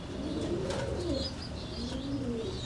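Pigeons coo steadily in a loft, their low, rolling calls overlapping under constant background hiss, with faint chirps and a brief flutter of wings.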